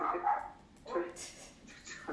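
A dog, just brought indoors, gives a few short barks and yips at close range, with people talking nearby.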